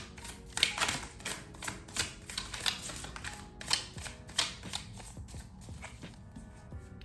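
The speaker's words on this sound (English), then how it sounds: "Two cards flipped over." Tarot cards being handled and flipped over for a reading, a steady run of crisp snapping and slapping card sounds, close and fairly loud, with no talking.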